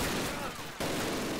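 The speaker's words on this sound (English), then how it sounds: "This MG42 is really hard to use because you can't see what you're shooting at all." An MG42 machine gun firing in the World War II shooter Call of Duty, a dense, continuous burst with a brief dip before the fire resumes at full loudness.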